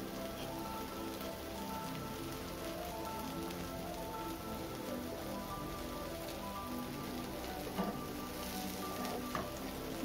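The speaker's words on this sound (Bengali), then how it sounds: "খুব ভালো করে কিন্তু উল্টে পাল্টে আমি খুব সুন্দরভাবে কিন্তু ভেজে নিচ্ছি" Steady, dense sizzling and crackling of chana dal lentil fritters frying in hot oil in a wok, continuous and close, with a couple of faint clinks near the end.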